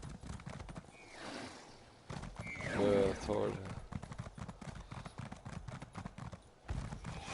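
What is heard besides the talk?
horse hooves clip-clopping in video game Elder Scrolls Online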